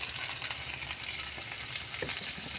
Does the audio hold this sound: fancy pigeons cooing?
no